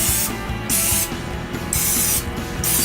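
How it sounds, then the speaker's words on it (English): Canola oil cooking spray spritzed into a bread pan for beer bread: four bright hissing bursts in quick succession, loud and close, each lasting about half a second, over a background of mechanical rattling. "we're going to use this nice canola oil spray to prevent this bread from sticking"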